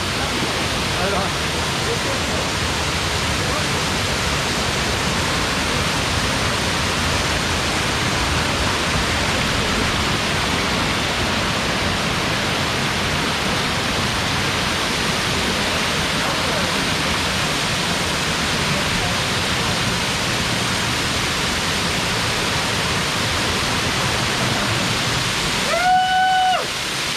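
A waterfall pours down in a constant, loud, broadband roar while someone showers beneath it, with a brief voice heard near the end.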